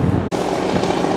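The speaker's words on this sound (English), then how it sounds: "Republic helicopter incoming on May 30th." Helicopter approaching a ship during a ship-to-ship cargo transfer at sea, a steady, loud rotor and engine drone that continues without letup apart from one very brief dropout.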